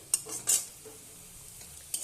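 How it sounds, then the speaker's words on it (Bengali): Fried food is stirred in a pan with a metal utensil, a few quick scraping clinks spaced apart over a faint sizzle, close and otherwise quiet with no speech. "এবার একটু আমি ভালোভাবে একটু নেড়ে নেব, আর একটু ভাজা ভাজা করে নেব"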